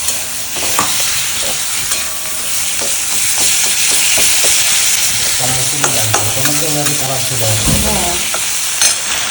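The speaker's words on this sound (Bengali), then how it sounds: "নুন দেওয়া হবে, এই যে নুন দিয়ে দিলাম, দিয়ে মাছের মাথাগুলো দিয়ে দেবো।" Fish heads fry with chili powder and salt in a pan, giving a loud, steady sizzle with stirring scrapes throughout and a brief spoken word partway through.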